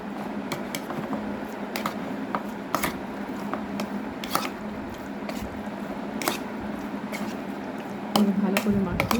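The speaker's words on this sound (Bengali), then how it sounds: "এবার আমি এটাকে ভালো করে মাখিয়ে নেব।" Chicken pieces mixed by hand with soy sauce give wet squishing and slapping sounds, repeated in short irregular bursts up close, with a busier patch of handling near the end.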